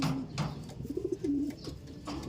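A pet pigeon coos softly nearby in a short series of low, wavering calls, with faint rustling and room noise around it.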